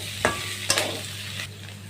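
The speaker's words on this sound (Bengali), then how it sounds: "তো দেখো আমার রসুন কাঁচা লঙ্কা হালকা ভাজা হয়ে গেছে, আর বেশি ভাজবো না" Garlic and green chillies fry lightly in a pan, with a low steady sizzle and two or three sharp spatula scrapes and knocks close by.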